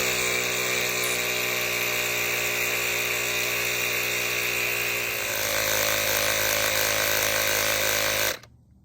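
An electric air pump runs continuously, inflating a bike tire with a Schrader valve from about 7 to 35 PSI: a loud, steady motor whine that shifts pitch slightly midway, then cuts off abruptly near the end.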